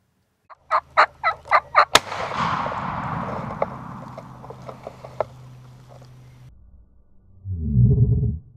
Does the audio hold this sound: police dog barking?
no